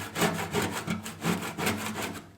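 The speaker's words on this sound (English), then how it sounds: "take the scraper and kind of just scrape off any of the gunk from the cook before." A plastic scraper drags over a pellet grill to scrape off gunk left from a previous cook, a close rhythmic rasp of about six strokes back and forth.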